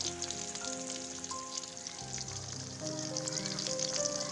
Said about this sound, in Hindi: 3-4 मिनट एक साइड से फ्राई होगी, 3-4 मिनट फिर दूसरी साइड से